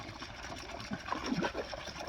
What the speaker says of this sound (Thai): เนี่ยน้ำตกอ่ะ